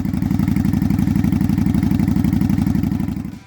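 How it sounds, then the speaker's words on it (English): A Kawasaki Vulcan 900 Classic's V-twin engine runs at a loud, steady idle with a fast, even loping pulse that fades out at the end. "Number 14, Kawasaki Vulcan 900 Classic."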